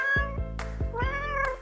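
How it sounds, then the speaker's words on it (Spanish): Cat meowing from up in a tree, four clear, loud, drawn-out meows in a close, steady sequence, the later ones longer and rising, with no talk. "¿Qué es ese sonido? ¡Es un gato en un árbol!"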